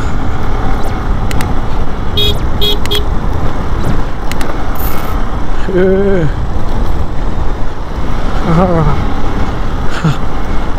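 A motorbike rides along a narrow village road through forest, with a loud steady roar of engine and rushing wind throughout, a few brief higher tones and some voices partly buried underneath.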